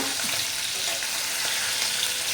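Paneer cubes frying in oil in a pan until golden brown on both sides, a dense, steady sizzle and crackle heard close up, loud and continuous, with no voices.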